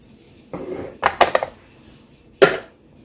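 A spoon knocking and scraping inside a pot while food is stirred, a few sharp clinks in quick clusters and one last clank, close and alone.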